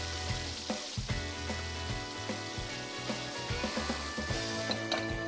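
Food sizzles and fries in the kitchen of the Order Up cooking game, with rhythmic clanks and taps of cooking actions and a steady tonal hum underneath.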